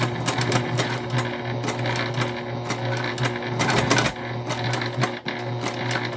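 A sewing machine runs steadily, making a back stitch on a beginner's Halloween sewing kit piece, with a continuous mechanical hum and a rapid needle patter that briefly surges and pauses near the end.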